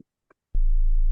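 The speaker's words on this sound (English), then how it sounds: "you just get a sine wave, turn it down 2 octaves" A pure sine-wave synth tone pitched down two octaves into a deep sub bass hum; a couple of brief clicks and blips come first, then the low tone holds steady and loud until the end.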